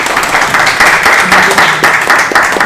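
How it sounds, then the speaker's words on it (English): Applause at a board meeting, a short burst of many people clapping together at a close, loud, even level, with a faint voice murmuring beneath it. "A big applause to Catherine for taking that"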